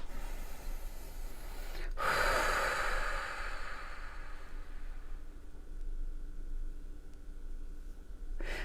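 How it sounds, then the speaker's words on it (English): One deep breath is blown out in a soft, breathy rush, close and fairly quiet against faint background hiss. "I want you to take a nice deep breath"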